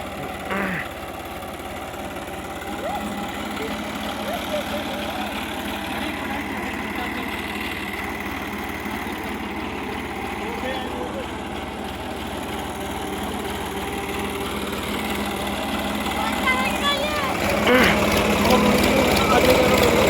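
A tractor engine runs steadily at a low, even idle throughout, growing somewhat louder near the end, with people talking over it.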